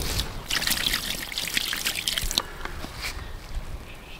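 Water poured and trickling out of a container into water, a steady dribbling splash lasting several seconds, close by and fairly quiet, with no talk over it.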